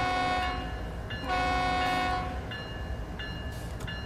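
An ES44 freight locomotive in Train Sim World 3 rumbles steadily with a loud, continuous engine drone and layered tonal hum, close and unbroken throughout.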